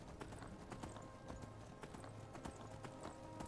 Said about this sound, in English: especially counting we're on a horse or a unicorn